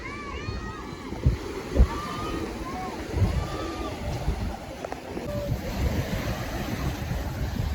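Sea waves wash ashore at Punong beach with wind buffeting the microphone, a continuous roar of surf under people talking nearby.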